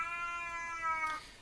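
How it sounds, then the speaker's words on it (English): Cat meowing in another room, a single drawn-out tonal meow that rises slightly at the end, fairly clear though muffled by distance, with no talking over it. "If you hear that noise, that's a cat in the other room."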